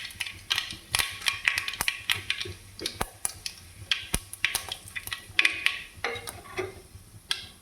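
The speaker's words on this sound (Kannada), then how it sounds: "ಈ ಎಣ್ಣೆ ಗರಮ್ ಆಗಿದೆ, ಇದಕ್ಕೆ ಸಾಸಿವೆ ಜೀರಿಗೆನ ಹಾಕ್ತಾಯಿದ್ದೀನಿ." Mustard seeds and cumin crackle in hot oil as the tempering for puliyogare. Sharp, irregular pops and snaps burst up close over a quiet background, with no talking.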